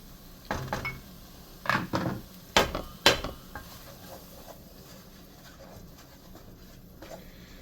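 Roux is stirred into vegetables and meat in a pot for small batch Cajun gumbo: a handful of sharp scraping clinks of a spoon against the pot in the first few seconds, then quieter faint stirring.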